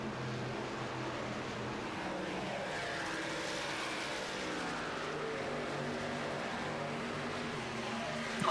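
Race cars on worn tires in the iRacing game during the ABN Bluegrass 220 broadcast, a steady continuous engine roar with shifting pitch as cars pass, moderately quiet and without talk.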